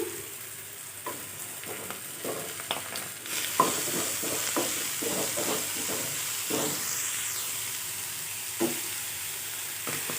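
Mushrooms sizzle steadily in a hot pan, with occasional utensil scrapes and clicks from stirring.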